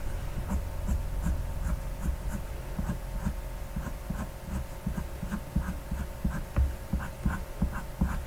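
Soft, rhythmic scratching of a 2B pencil drawing eyelashes on paper, with repeated short strokes close up over a low steady hum.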